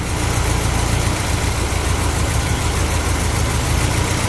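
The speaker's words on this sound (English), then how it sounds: "At idle, we're going to kill one cylinder at a time here." An MGB engine fitted with a Weber dual progressive downdraft carburetor idles steadily, a loud, even, close-up rumble with no voices over it.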